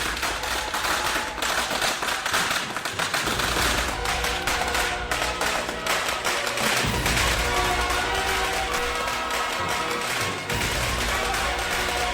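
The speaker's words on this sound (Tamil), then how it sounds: "போடுறா வெடிய" Firecrackers go off in a long, dense barrage of sharp cracks and pops, loud and continuous across the whole stretch at a festive celebration, with no voices heard.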